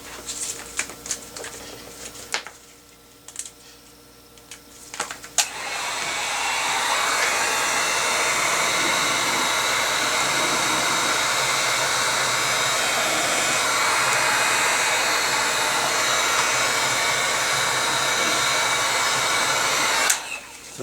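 A heat gun blows steadily on heat shrink tubing over a soldered wire connection during a 2005 Volvo S60 low beam repair; after a few clicks and handling noises, a loud continuous whooshing roar runs nearly twenty seconds before cutting off.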